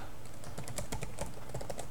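Rapid keystrokes on a computer keyboard sit right beside the microphone, loud and close, an irregular burst of clicks with no talking.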